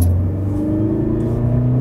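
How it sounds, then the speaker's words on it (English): Mercedes GLE 350de, a 2-liter four-cylinder diesel plug-in hybrid, accelerating hard in sport mode, a loud steady engine drone with a rising tonal whine and road rumble heard from inside the cabin. "now I want to be in sport and see what's the real acceleration."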